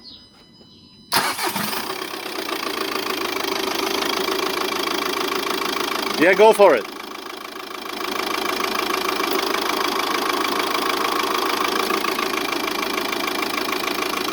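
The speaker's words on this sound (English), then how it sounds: "Okay, start the car" The engine of a VW Passat B6 cranks and catches, then settles into a steady idle, with a brief rise in revs partway through; someone speaks briefly over it.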